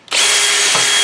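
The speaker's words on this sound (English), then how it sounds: "I just go up in with a little flap wheel" A small flap wheel spun by a drill grinds rust out of a Subaru Crosstrek ball joint hole: a loud, steady abrasive whir that kicks in sharply after a short pause and runs without a break, with no talk.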